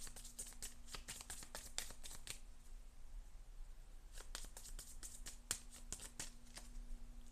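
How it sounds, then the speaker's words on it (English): Cards are shuffled into a draw pile during a tabletop board game, a rapid flurry of crisp riffling snaps in two bursts separated by a brief pause, quiet and close with a faint steady hum beneath. "we immediately shuffle all the Sand Snake discarded cards into the normal pile"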